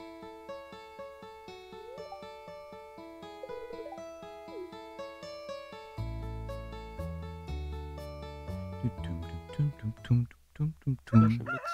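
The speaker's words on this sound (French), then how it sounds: "Ah, ah le coq" A rooster crows in the farming video game Stardew Valley, heard amid cheerful game music with steady plucked notes, growing busier and louder toward the end.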